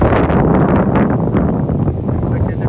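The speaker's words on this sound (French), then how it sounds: "il y a du vent, tu voles pas n'importe où" Strong wind gusts roar across the microphone outdoors, a loud, continuous rushing buffet with no pauses, near and dominating the scene.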